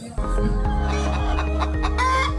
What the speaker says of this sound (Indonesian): Jumlah ayam di sini ada 300 ekor